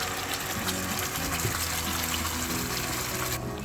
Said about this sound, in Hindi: अब इसके अंदर जो हमने वो जो टमाटो प्यूरी थी इसको हमने अच्छा सा पीस लिया था, ये डाल देंगे